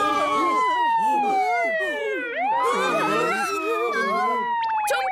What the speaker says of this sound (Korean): 사이렌 소리가 안 들리나 봐